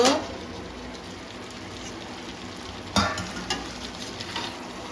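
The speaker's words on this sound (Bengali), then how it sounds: "এখন ঢাকা দিয়ে আরো দু মিনিট রান্না করে নেব" Mixed vegetable curry with Malabar spinach and lentil dumplings cooks in a covered pan, giving a steady soft sizzle throughout, with a few brief stirring clinks and louder bursts near the middle.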